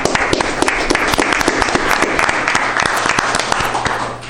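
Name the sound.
applause at a city council meeting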